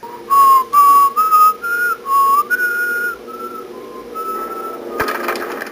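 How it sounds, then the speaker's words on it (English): A Trollhunters character whistles a dark, slow melody, a clear lone whistle in drawn-out notes with short gaps, easing softer toward the end before a brief noisy burst. "she lets her prey know she's near by whistling that dark song"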